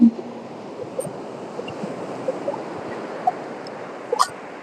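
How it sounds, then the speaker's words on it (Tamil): Hard-hitting sea surf at a coastline during a fishing trip, a steady broadband wash of waves with a few brief splashy bursts, loud and continuous with no voices. "கடல் வேற வேகமா அடிச்சுட்டு இருக்கு."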